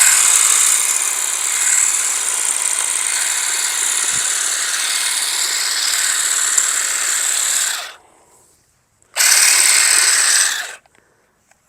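A battery-operated Ryobi grass trimmer cuts overgrown grass in a garden, its high steady whine running continuously for about eight seconds, stopping briefly, then starting again for a short second burst, close and loud with no talk.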